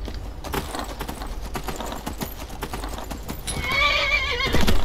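In Skyrim, steady clip-clop of horse hooves throughout, then a loud horse whinny near the end, with a faint mechanical game-like background.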